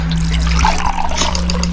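Tap water runs steadily from a bathroom faucet, filling water for tea or coffee, a continuous close trickle over a low steady hum with no talk.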